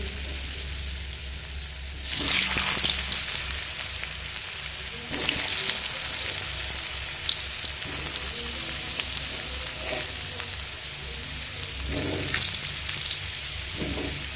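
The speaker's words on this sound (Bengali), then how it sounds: "দেখুন তেলটা গরম হয়ে আসছে এবার আলুগুলো আমি ভেজে নেব" Potato pieces for a minced-meat potato curry fry in hot oil with a steady broadband sizzle, swelling into louder crackling bursts at intervals. No talking is heard.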